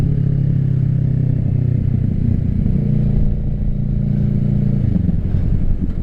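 A 2024 Kawasaki Ninja 650 fitted with an M4 exhaust, heard up close as a loud, steady droning engine note with a slight change in pitch partway through, with no speech.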